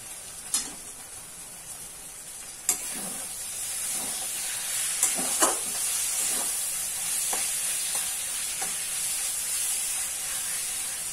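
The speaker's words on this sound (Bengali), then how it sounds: "এবার টমেটো সসটা এর মধ্যে মিশিয়ে নেব।" Chicken curry masala being stirred as tomato sauce is mixed in, with a steady frying sizzle throughout and occasional sharp spoon scrapes and clinks against the pan.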